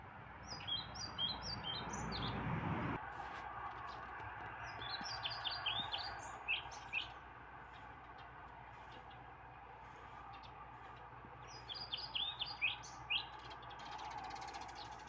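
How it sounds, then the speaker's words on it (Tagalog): Small birds chirp in short scattered bursts near a backyard bird treehouse, light tweets coming and going over a steady outdoor hiss, with a louder rustling bump at the start. "Meron ng 3 ibon."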